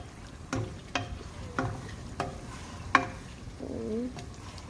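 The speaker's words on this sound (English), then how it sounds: "Now we're going to add the the kari patta. We're gonna add that in here, and we're gonna stir it." Curry leaves (kari patta) frying and being stirred in a pan for gosht ka achar, with a run of separate soft scraping strokes at a steady pace over a low, faint sizzle.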